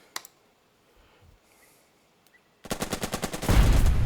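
Gunfire in the Burden of Command war strategy game: a few faint early shots, then from mid-clip a loud rapid burst of repeated automatic fire that swells into dense, continuous volleys to the end.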